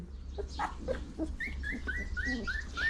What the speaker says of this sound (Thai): แพนด้าเห่าดีจังเลย